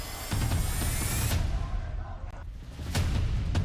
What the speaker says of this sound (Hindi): प्रदर्शनकारियों पर सामने से गोलियां चलाई जा रही हैं